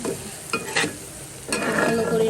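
Vegetable noodles are stirred with spices in a frying pan, making a soft sizzle with a few scraping bursts of the spatula, heard close and alone.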